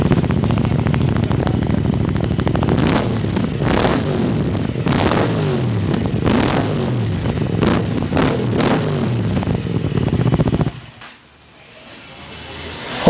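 Aprilia RS 457 motorcycle with an aftermarket full-system exhaust, idling loudly nearby and blipped repeatedly in short revs, then cut off abruptly, leaving faint background noise.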